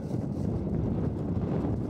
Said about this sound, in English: it's too windy for kayaking again